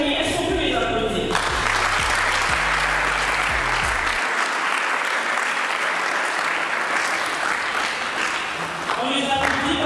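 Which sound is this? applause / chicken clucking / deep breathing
applause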